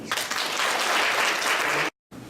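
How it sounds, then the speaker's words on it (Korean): Dense, loud applause from a lecture audience fills the room steadily, then cuts off abruptly before a brief return. "박수 한번 부탁드립니다"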